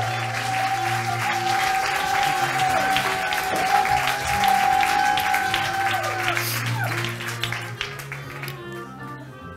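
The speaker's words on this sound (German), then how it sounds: "Bitte einen ganz, ganz fetten Applaus" A science slam audience in Erfurt breaks into sustained, dense applause that holds steady for several seconds, with a few cheers in it, then thins out near the end.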